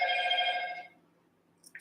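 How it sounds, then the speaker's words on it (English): A telephone bell rings indoors, a loud, steady electronic trill lasting just under a second, then fading into quiet room tone with a faint click at the end. "Oops, my phone's ringing."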